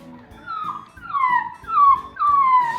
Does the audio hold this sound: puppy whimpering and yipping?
yes